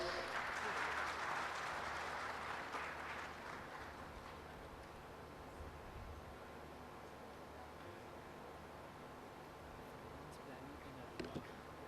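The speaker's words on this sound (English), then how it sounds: "Give a big round of applause." Applause from an economic summit audience, fairly dense at the start and thinning to a lighter patter over about twelve seconds, with room noise underneath.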